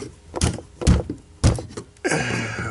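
A metal knockout being popped out of an electrical box: a few dull, loud thunks and taps of knocking, followed by a brief rougher scraping sound, with no talk.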